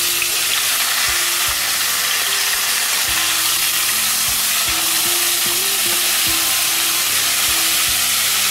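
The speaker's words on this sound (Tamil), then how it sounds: "இப்போ இந்த எண்ணெயில வந்து இந்த தக்காளியை போடுறேன்." Chopped tomatoes fry in hot oil for a tomato pickle, giving a steady, loud sizzle with occasional stirring clicks and scrapes against the pan throughout.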